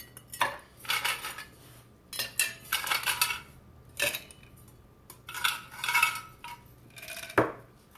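Ice tumbling into a cocktail shaker for margaritas, heard as several close, sharp clattering bursts separated by short pauses.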